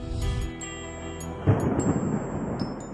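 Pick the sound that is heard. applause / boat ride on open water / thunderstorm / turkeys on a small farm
thunderstorm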